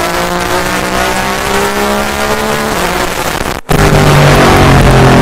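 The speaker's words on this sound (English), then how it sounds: "This car is so loud it got the spirit realm throwing shit at it just to make it stop." A loud race car engine roars steadily with strong harmonic drone, briefly cutting out for a split second before resuming at full volume, likely the Audi R10 TDI diesel race car circling a track.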